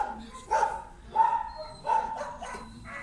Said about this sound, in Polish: Najpierw pieski też muszą oszczekać.